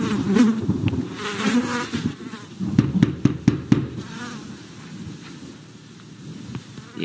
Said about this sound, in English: Oh, there's a dead body back here. It's flies.